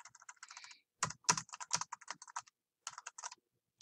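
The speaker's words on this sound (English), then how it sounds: "I type badly." Rapid bursts of keystrokes on a computer keyboard, typed in uneven clusters with short pauses between runs, close and fairly quiet with no voices.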